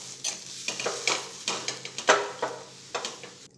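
Mashed potato and masala being stirred in a pan over low heat for a frankie stuffing: rhythmic scraping strokes of a spoon against the pan, about a dozen, over a faint sizzle, with no talking.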